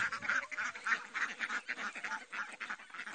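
Muscovy ducks gather close by, giving a steady run of rhythmic, raspy quacks and honks that repeat without pause.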